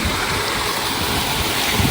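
Strong river current flowing past a fishing spot where nets are set for shrimp and crabs, a steady, dense rush of water that stays loud and continuous with no voices.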